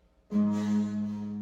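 A single plucked harp note with the pedal held between notches, giving a buzzing, metallic ring that sustains steadily and alone after a sharp onset.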